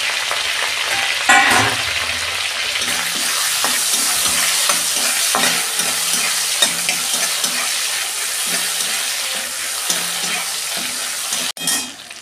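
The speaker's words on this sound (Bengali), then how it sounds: "ওই তেলের মধ্যে আমি 2টো তেজপাতা দিয়ে দিচ্ছি, আর দারচিনি আর এলাচ দিয়ে দিচ্ছি, আর কাঁচা লঙ্কা কুচো করে রেখেছিলাম দিচ্ছি।" Bay leaves, cinnamon, cardamom and chopped green chilli frying in hot oil: a loud spatter as they hit the pan, then a steady sizzle with rhythmic scraping stirs and a clatter near the end, no talking.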